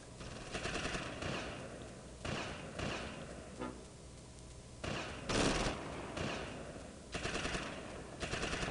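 Gunfire in the World War II strategy game Close Combat: Invasion Normandy, airborne troops against Fallschirmjäger, with repeated bursts of rifle and machine-gun fire rattling in irregular clusters at moderate volume over a constant battle din.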